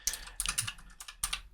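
Rapid clatter of fingers typing on a computer keyboard, close and fairly quiet, in uneven bursts of keystrokes with short pauses between them.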